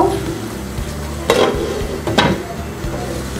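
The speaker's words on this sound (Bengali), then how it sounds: "এবার আমি মশলাটাকে আগে একটু কষিয়ে নিব" Spice paste with yogurt is stir-fried in a pan for egg korma, a continuous sizzle close by with two sharp scraping strokes of a spoon against the pan.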